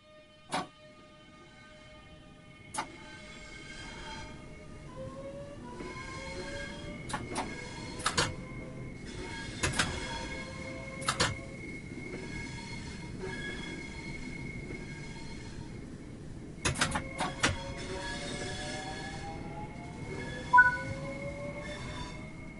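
Class 465 Networker electric train driving in Train Sim World 3, with a steady rolling rumble, rising motor whines and repeated sharp clacks and squeals from wheels and track, heard from the cab.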